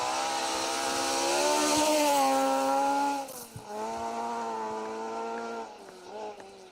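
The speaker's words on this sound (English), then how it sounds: "That Stratos sounds and looks incredible. I can hear it from the stage end," A Lancia Stratos rally car engine on a forest rally stage, heard from a distance as a loud, sustained rising and falling drone with shifting pitch, easing briefly as if changing gear before pulling on again.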